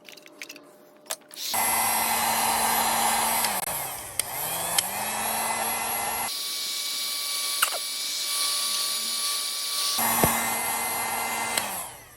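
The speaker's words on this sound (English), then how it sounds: "we're going to wipe it off and then we're going to blow dry it." A hair dryer blows on brass Schlage lock hardware. Its loud, steady whirring airflow runs in long stretches, briefly dropping and shifting in pitch between bursts.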